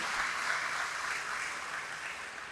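An audience at an indoor talk event claps in a soft, distant wash of applause that holds steady and slowly fades, with no voices over it.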